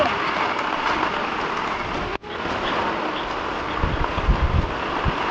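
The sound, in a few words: heavy rain falling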